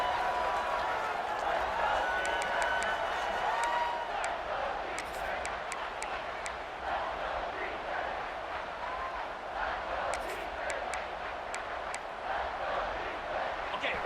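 The stadium crowd at a Temple versus Army college football game roars and cheers in a sustained, distant wash of noise, with scattered clapping and a commentator talking over it.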